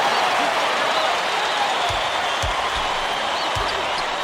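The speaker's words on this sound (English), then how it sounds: "Listen to the crowd, Vern." College basketball arena crowd at an NCAA Tournament Elite Eight game between Wake Forest and North Carolina roars in a steady, dense wash of cheering, with occasional ball bounces thudding beneath it.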